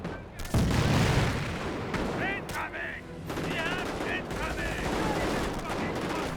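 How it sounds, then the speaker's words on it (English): A decoy artillery barrage in Company of Heroes, with loud thudding blasts and crackling gunfire in a World War II battle, plus brief shouted unit voice lines in between. "I think that's decoy barrage."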